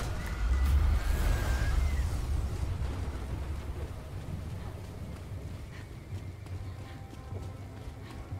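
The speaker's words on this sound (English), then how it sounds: "Storm is here anyways." Storm in Evil Dead: The Game, with steady rain noise washing over everything and a deep rumble of thunder swelling in the first seconds before easing into a continuous downpour.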